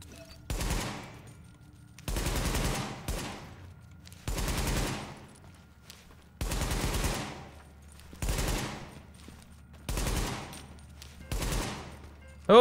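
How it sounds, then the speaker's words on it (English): Seven separate bursts of rifle fire from the Caduceus in The Division video game, spaced about every one and a half to two seconds, each sharp and loud with a decaying tail, no talking. "A little accuracy test with some burst fire."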